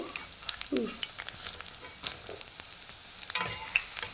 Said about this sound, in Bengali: মুসুর ডাল বেটে বড়া করে নেওয়া হচ্ছে উল্টো পাল্টে এটা ভালোভাবে ভেজে দেবো লাল করে